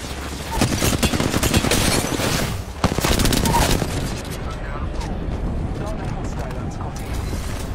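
Rapid gunfire from a video game shooter, dense crackling bursts for about four seconds that then thin into scattered shots over a steady din, with voices talking throughout.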